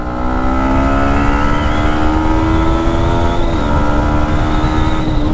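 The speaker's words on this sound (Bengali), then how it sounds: "ছয় গিয়ারের বাইক এটা, হ্যাঁ 4 গিয়ার পর্যন্ত এখানে তুলতে পারছি" A six-gear motorcycle with over 11,000 km on it accelerates hard along an empty road, its loud, close engine note rising steadily in pitch through the gears, with a brief dip at a shift before climbing again; no talk.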